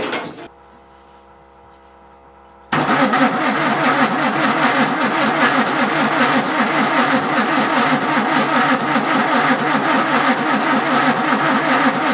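The Chateau de Chaumont car's engine cranks to life after a brief quiet hum, then settles into a loud, steady, close-up running drone that holds for the rest of the stretch.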